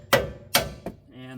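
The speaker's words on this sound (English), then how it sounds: "let me go grab a hammer. We'll see if we can beat that off." A hammer strikes a broken tie rod end on a Toyota Tundra, two sharp metallic blows and a lighter third hit, ringing briefly, close and without talking.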